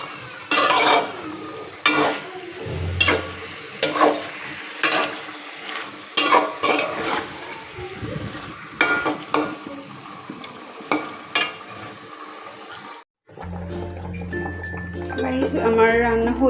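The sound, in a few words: sautéing curry masala in a pan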